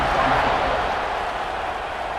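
A stadium crowd roars in a college football video game, Colorado vs Auburn, as the kickoff unit takes the field; a steady, loud, broadband cheer fills the space with no break.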